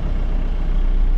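Heavy truck traffic on a road, a loud, steady low rumble of engines close by with no breaks, filling the whole moment.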